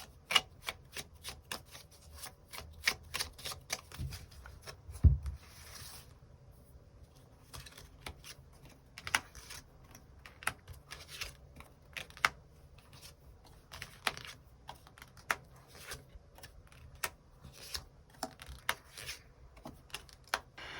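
Tarot cards are shuffled and drawn, making a long run of soft, close, crisp card flicks and taps, with a brief quiet stretch midway.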